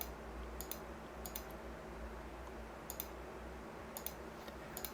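A computer mouse clicks while lines are drawn in Autodesk Inventor CAD software. Short, crisp clicks come singly and in quick pairs at irregular intervals over a steady low room hum.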